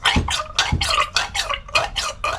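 A Honda Monkey's YSS suspension unit being pumped by hand to bleed out air bubbles, giving about nine rhythmic wet squelching, sucking strokes, close and fairly loud, with no voices.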